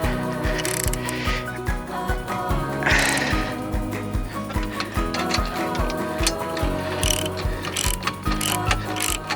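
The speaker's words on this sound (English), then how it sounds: "And there we go. We do these bolts up." Steady rapid clicking of a ratchet tightening bolts on a GripSport GS2+ e-bike rack, a dense mechanical ticking rhythm close up that runs throughout, with occasional brighter scrapes and no talking.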